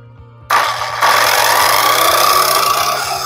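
A motor started on solar-powered energy to run a pump for a well found under a house: a sudden loud whirring onset that steps up after a second and holds a steady dense buzz over a low rhythmic pulsing hum.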